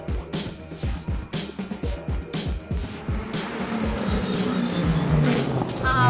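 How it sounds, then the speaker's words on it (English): High-horsepower race cars at Road America in a USGTC/USTTC weekend roar past one after another, loud, rhythmic engine surges in the first half giving way to a sustained, dense racing drone. "We're enjoying the sounds of the wonderful high horsepower cars here at Road America."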